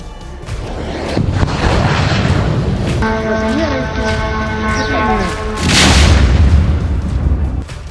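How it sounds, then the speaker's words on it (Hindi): A drone strike on the Lanaz oil refinery in Kurdistan, Iraq, sets off a heavy explosion, a loud booming blast with rumbling roar that swells again near the end, mixed with a steady tonal hum. "ऑयल रिफाइनरी में ड्रोन के टकराते ही वहां जोरदार धमाका हुआ और आग भड़क गई"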